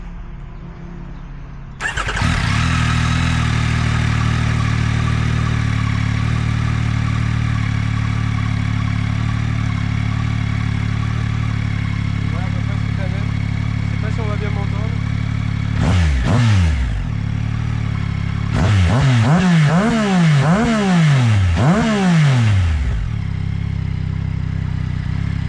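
A Yamaha R9 sport motorcycle engine, warmed up, idles loudly and steadily, then its exhaust is revved sharply twice, rising and falling in quick throttle blips close by.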